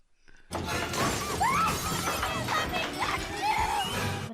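Glass window smashing loudly in a Buffy the Vampire Slayer TV scene, a sharp crash followed by a sustained spray of shattering, tinkling shards over a dense, noisy backdrop lasting several seconds.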